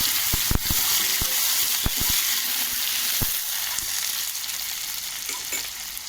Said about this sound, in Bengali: আমি কিন্তু একটু আলু দিয়ে দিলাম, লাল করে ভাজবো